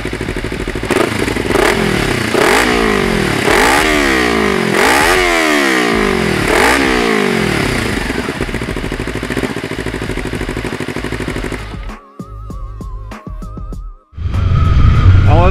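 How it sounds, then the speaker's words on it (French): Kawasaki Ninja 300 motorcycle engine revs hard and close in a series of rising and falling surges, then settles into a lower burble, drops out briefly with clicks, and roars back up at the end. "Seul le son de la moto ramèneront les jeunes à la réalité."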